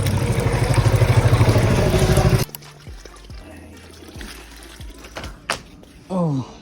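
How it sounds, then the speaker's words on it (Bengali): For the first couple of seconds, water runs loudly and steadily into a bucket, then stops abruptly and gives way to quiet handling noises and scattered clunks. "দেখে আসি বালতিটা ভরুক ততক্ষণে"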